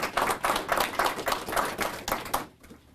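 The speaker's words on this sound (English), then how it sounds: "Let's give that a round of applause." Audience clapping at a mayor's media briefing, a short burst of brisk, dense applause lasting a couple of seconds and then fading out.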